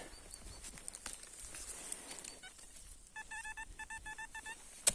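After a few seconds of faint scraping and rustling, a metal detector outdoors in autumn emits a series of rapid, repeated electronic tone pulses reading 91-93, close and moderately loud.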